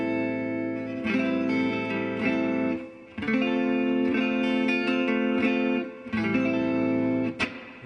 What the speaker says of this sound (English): Hear that nice reverb.